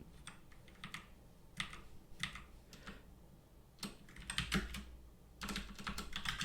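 Linux commands are typed on a computer keyboard in short bursts of clicking keystrokes separated by pauses, close and quiet with no voices.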